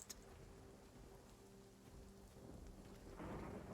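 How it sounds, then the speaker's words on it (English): A thunderstorm with rain in the survival video game Nightingale: steady rainfall patters over a low, continuous rumble of thunder that swells louder toward the end, heard alone without voices. "Oh yeah, the storm clouds rolling in."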